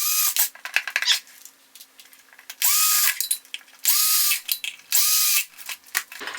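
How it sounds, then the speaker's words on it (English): A cordless drill fitted with a Kreg jig driver bit drives a screw in short bursts, spinning up and slowing four or five times, with clicking and handling noises between runs. "I have attached on here on my cordless drill"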